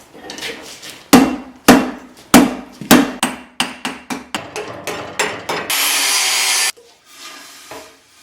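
A blacksmith hammers hot metal on an anvil, delivering a run of sharp, ringing blows at a quick, fairly even pace, then a roughly one-second burst of hiss and a few softer knocks.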